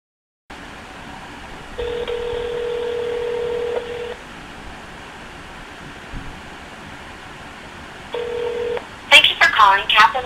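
A telephone call placed to Kaplan University: a low line hiss, then two spells of steady electronic tone with a quick burst of dial tones near the end, heard over a phone connection.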